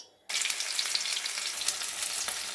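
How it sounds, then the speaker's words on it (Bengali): Raw plantain pieces dropped into hot mustard oil, bursting into a sudden loud, dense sizzle that holds steady and close after a brief quiet start. "তেল গরম হয়ে গেছে, এখন কাঁচকলাগুলোকে ভেজে নেব।"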